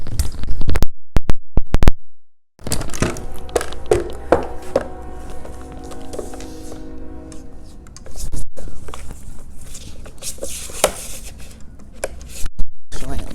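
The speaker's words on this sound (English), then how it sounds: "I'm gonna now cut off the excess on this left-hand side." Paper for a handmade mini album is trimmed by hand, a few sharp snips followed by soft rubbing and rasping of the cutting tool along the sheet, close up, with occasional quiet taps.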